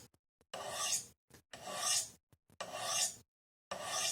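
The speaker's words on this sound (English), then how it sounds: "You sharpen like this, and you can do it" A knife blade drawn along a ceramic sharpening rod, four long rasping strokes with a couple of short light taps between them, close and clear against near silence.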